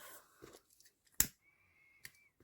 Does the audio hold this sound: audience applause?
no